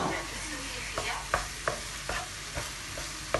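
Kefta (minced meat) and sweet peppers cook in a pan, with a soft, steady sizzle broken by regular stirring scrapes and utensil taps.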